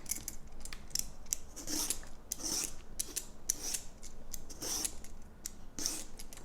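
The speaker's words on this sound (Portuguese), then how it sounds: "Eu uso esse descascador que é uma maravilha" A vegetable peeler scraping the skin off a fresh, firm eggplant, giving repeated short rasping strokes in an irregular rhythm, close and fairly clear with no talking.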